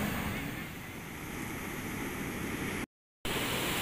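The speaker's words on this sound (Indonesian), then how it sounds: "karena ombak di pantai ini lumayan besar" Waves at Ketawang beach in Purworejo, Central Java, where the surf is fairly large, rush as a steady, loud hiss of surf and wind, broken by a short silent gap near the end.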